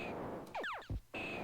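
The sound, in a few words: missile hitting an alien in a Space Invaders-style video game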